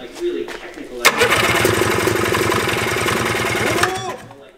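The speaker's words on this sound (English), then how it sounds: "All right, we're starting it now. We just put some fresh gas in." A 1987 Yamaha Exciter 570 snowmobile engine cranks with a thump, catches and runs in a loud, steady rapid putter for about three seconds before cutting off, with people talking before it starts.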